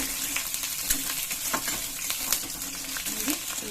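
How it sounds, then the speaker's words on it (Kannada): Chilies fry in a pan for ridge gourd peel chutney, a continuous close sizzle with occasional scraping stirs and small pops throughout. "ಖಾರ ಇರೋದನ್ನ ಫ್ರೈ ಮಾಡ್ತೀವಿ"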